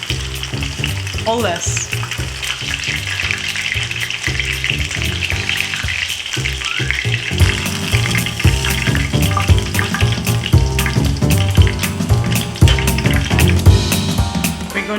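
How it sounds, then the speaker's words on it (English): Batter-coated shrimp without breadcrumbs sizzle and crackle loudly and steadily in hot oil, with a brief spoken phrase near the start. "so we'll place it in hot oil. No breadcrumbs, just the batter."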